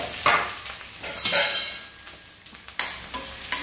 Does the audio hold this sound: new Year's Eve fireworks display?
no